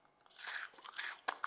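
Crunchy chocolate pieces with a crisp filling are bitten and chewed close to the microphone, giving a run of bright crackling crunches and a couple of sharp snaps, with no talking.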